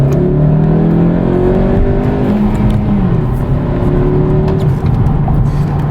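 A turbocharged car's engine climbs gently to about 3,000 RPM on light throttle with no boost, a steady, loud, smooth drone with slowly rising tones heard from inside the cabin.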